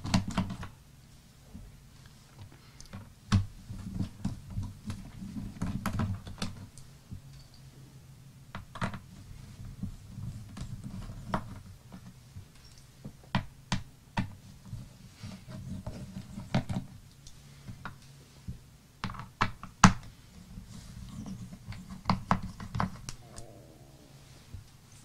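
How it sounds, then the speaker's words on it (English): Screws being backed out of the underside of a MacBook Pro A1502 laptop with a small screwdriver, faint scattered clicks and ticks over a soft low hum, no talking. "So let's take out the screws."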